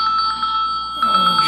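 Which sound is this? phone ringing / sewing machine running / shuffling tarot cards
phone ringing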